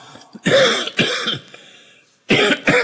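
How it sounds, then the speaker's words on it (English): A few short, throaty morning coughs close by, coming in quick bursts with a brief pause before a final pair. "It's just a little, morning cough."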